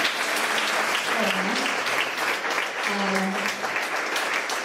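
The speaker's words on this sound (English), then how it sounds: "Let's give them a round of applause one more time." An audience at a Pecha Kucha evening of a TESOL conference applauds in a dense, continuous burst of clapping, with faint voices rising through it.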